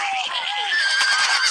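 A horse gives a loud, close whinny, a high wavering neigh that rises and trembles for over a second on its own.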